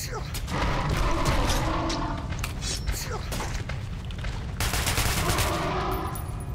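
Rapid bursts of gunfire from the video game Metro: Last Light, dense automatic fire with sharp repeated reports and booming impacts, loud and close, with a voice talking over parts of it.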